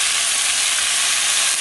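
An onion fries in a pan while being stirred, producing a loud, dense, continuous sizzle up close with no break.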